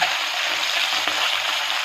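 Puti fish fried with turmeric in hot oil, a continuous close hiss and crackle of sizzling with a faint stir midway and no talking.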